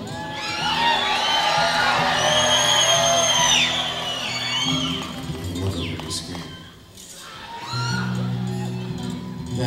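A concert crowd of guitar fans at the Universal Amphitheater screams, whoops and cheers loudly and steadily, the roar easing and dipping for a moment before swelling again, with some voices in it.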